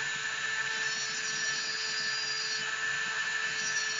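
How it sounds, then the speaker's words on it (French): Small rotary drill boring into a stone cabochon held semi-immersed in water, a steady high-pitched whirring grind with a constant tone, heard close and alone throughout. "si bien sûr le récipient est un peu plus large, vous pouvez percer en semi-immergé."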